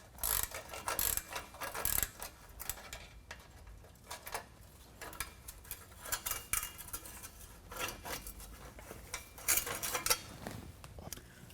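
Ratchet clicking and metallic clanking as a 13 mm wrench loosens exhaust clamp bolts under a 2019 Ram 1500 5.7L V8, with bursts of quick clicks and clinks at moderate loudness, close up, and no talk.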